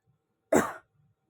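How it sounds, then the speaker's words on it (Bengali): A single short, harsh cough bursts out close to the microphone, then quiet follows. "এত গলাটা খুসখুস করছে, খালি কাশি হচ্ছে।"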